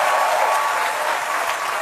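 A concert hall audience at a French folk song competition applauds young performers, steady dense clapping filling the whole stretch, loud and even, with no voices over it.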